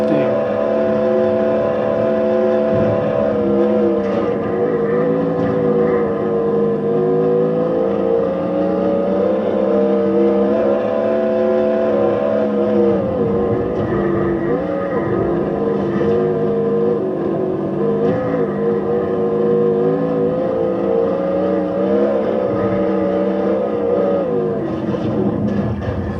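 Race car engines in the TORCS racing game on Slackware Linux drone steadily and loudly throughout, with sustained harmonic whine shifting in pitch as cars accelerate and ease off, a continuous dense engine roar.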